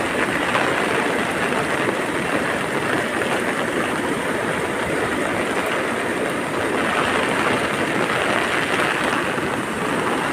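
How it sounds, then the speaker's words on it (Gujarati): Torrential rain pours down in Gir during a cloudburst, a loud, dense, unbroken roar of water hitting surfaces and running off, steady for the whole stretch with no voices. "જોરદાર વરસાદ."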